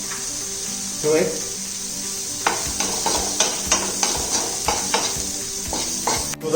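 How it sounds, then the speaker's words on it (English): Sliced mushrooms sautéing with roasted garlic, salt and crushed black pepper in a pan, a steady soft sizzle with repeated scraping strokes of a spoon stirring them, with faint talk in the background. "Just saute them nicely."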